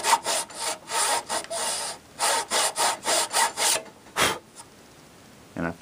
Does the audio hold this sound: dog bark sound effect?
no